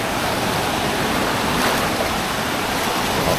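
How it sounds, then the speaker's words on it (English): Ocean waves at Ocean Beach on an overcast day, a loud, continuous broadband wash of surf with no distinct breaks and no voices. "We'll see how big the waves are."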